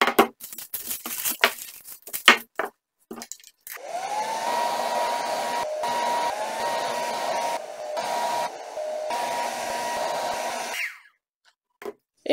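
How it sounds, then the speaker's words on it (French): A hair dryer runs as a steady loud whir for about seven seconds, drying paper aged with coffee and tea, framed by scattered clicks and handling noises before and after. "Mon sèche-cheveux, bah oui, parce que là,"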